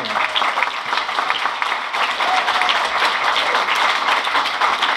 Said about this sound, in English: I just want to give a round of applause for all these people that loaned these things